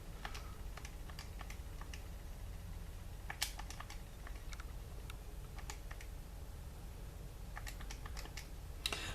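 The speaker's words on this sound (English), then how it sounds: "So that's what we're typing into the calculator." Quiet, irregular tapping of keys in short bursts, like buttons being pressed on a small device, over a faint steady background hum.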